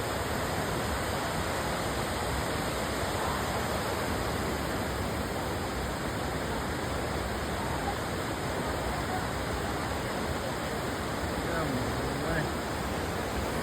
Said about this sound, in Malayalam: അത് വെള്ളം ഒഴുകി പോകുന്ന സൗണ്ടും ആ മലയിൽ നിന്ന് വെള്ളം വീഴുന്ന സൗണ്ടും ആണ്